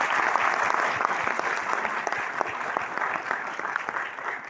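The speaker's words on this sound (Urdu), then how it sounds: "پلیز دل سے تالیاں بجائیں ان کے لیے۔" Sustained audience applause at a talk on Kashmir culture, a dense steady wash of many hands clapping, fairly loud and close with no voices over it.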